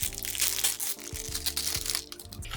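A bag of long cheese-and-onion chips is torn open, giving steady crinkling and crushing plastic rustle at close range, moderately quiet, with no talk.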